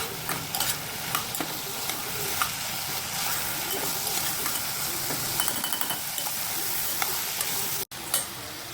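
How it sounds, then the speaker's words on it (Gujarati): Bottle gourd and chana dal sauté in a pan with a dense, continuous sizzle and crackle, stirred throughout, with one abrupt brief dropout near the end before the frying resumes. "બધું બરાબર મિક્સ કરી દઈશું અને થોડી વાર એ પણ તતળાવા દઈશું."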